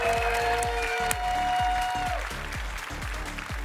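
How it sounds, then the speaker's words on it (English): Audience applause in a convention hall at a cosplay contest, honouring the Best in Show runner-up: dense, steady clapping from a large crowd that holds loud and even throughout, with a sustained tone lingering above it before fading. "Let's have one more round of applause for our Best in Show runner-up"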